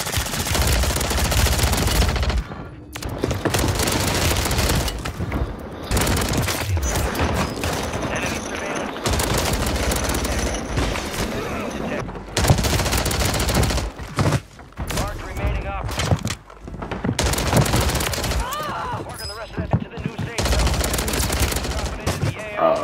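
Striker 9 submachine gun fire in Call of Duty on Rebirth Island comes as long, loud, rapid automatic bursts, close and dense, broken by short pauses and continuing through the whole stretch.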